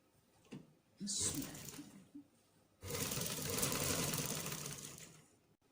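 A sewing machine runs in two bursts while stitching the side seam of a jumpsuit: a short run, a pause with faint handling, then a longer steady whirring stretch, close by and with no talk.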